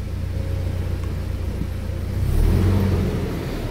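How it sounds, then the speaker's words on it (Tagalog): A Toyota Fortuner's 2TR engine, just after a fuel filter change, idles after cranking with a low, steady rumble that swells briefly near the end as if revving slightly. "Then crank na natin yung engine. Tingnan natin kung aandar."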